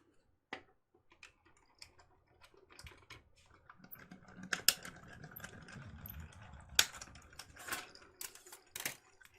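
A die cutting machine cuts a paper frame, giving faint, scattered clicks and ticks that build into a busier mechanical rattle partway through, with sharper snaps near the middle.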